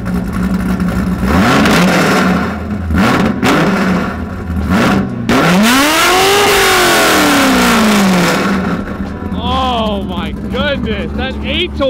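A Toyota GT86 fitted with 8-1 headers fires up and revs hard, the engine note rising and falling in loud sweeping pulls close by, while people talk and shout over it.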